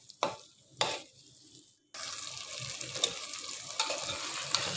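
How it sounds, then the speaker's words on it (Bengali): Dried fish frying in a pan with tomato and spices for Chattogram-style khaissha: two sharp utensil clanks against the pan, a short lull, then a steady crackling sizzle with occasional stirring scrapes. "এখন এই শুটকিটাকে আমি সুন্দর করে কষিয়ে নিব টমেটো আর মশলার সাথে"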